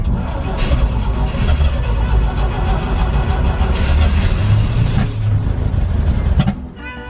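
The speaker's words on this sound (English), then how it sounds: "the starter motor's obviously working" A vintage van's engine cranks on its starter motor in a loud, continuous churning rumble for about six seconds, then stops abruptly.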